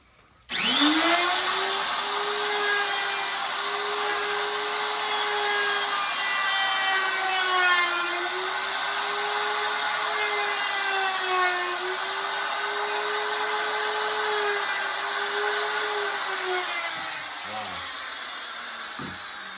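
A DeWalt router starts up and runs as a loud, steady high-pitched whine with a slight wavering in pitch. It sounds close and continuous, then winds down near the end.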